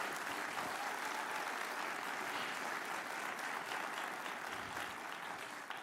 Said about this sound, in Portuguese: dê para ele uma forte salva de palmas